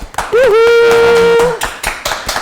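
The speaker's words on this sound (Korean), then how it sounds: "저희 박수 그래도 훈훈하게" A small audience at a live Korean art-exhibition talk claps with sharp, scattered hand claps, joined early by a sustained vocal exclamation, then continuing as a light patter.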